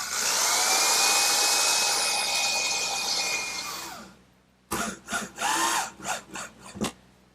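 A power drill sets drywall screws into the glued saddle of a wooden rocking horse, a long steady whine for about four seconds, then a series of short, choppy bursts as the screws drive home, close and loud with no talk.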